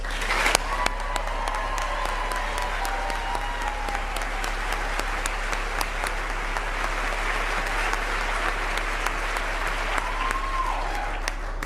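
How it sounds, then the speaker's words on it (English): Sustained applause from a large audience at a NASA ceremony welcoming the 2025 astronaut candidates, dense steady clapping with scattered sharper claps, running on its own for the full length. "please join me in giving them another round of applause"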